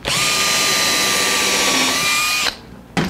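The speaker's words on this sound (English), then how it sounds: "Okay, and then I can drill." A power drill bores into a wooden acoustic guitar neck joint fixture, one loud steady whine for about two and a half seconds that stops, then a brief restart of the motor at the end.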